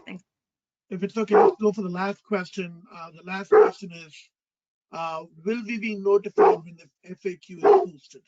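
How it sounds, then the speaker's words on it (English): A dog barks a few times during a Zoom call, short barks mixed into ongoing talk from people on the call. "I'm so sorry about my dog."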